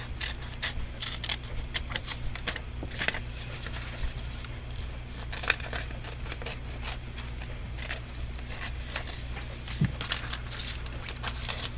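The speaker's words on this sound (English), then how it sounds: "now let's try to cut out the arms this way." Scissors cutting out a printed image from a glossy magazine, steady close snipping and paper rustle continuing throughout over a constant low hum.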